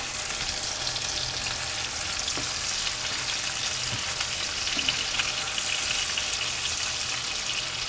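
Steady, dense sizzling of meat patties frying in a pan, a constant crackling hiss with occasional small pops, no voices.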